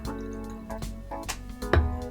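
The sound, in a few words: pouring Weller Special Reserve bourbon into a glass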